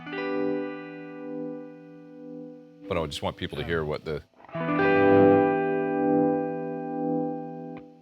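Sustained electric guitar chords through a vibe effect pedal in sine wave mode, amp loud, shimmering and warbling, close, interrupted briefly by a person speaking before the wavering tone returns.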